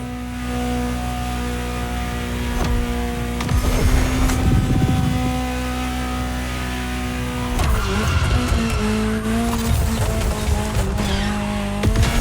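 Ferrari GTO in The Crew Motorfest, a steady droning engine note with shifting revs, broken by bursts of tire squeal and skidding scrapes during hard cornering, close and loud, with no talking.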